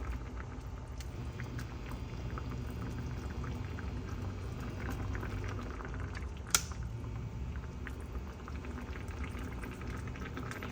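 Boneless milkfish slides into a pot of boiling sinigang broth, a steady bubbling simmer with a brief splash-like burst partway through, continuous and moderately quiet.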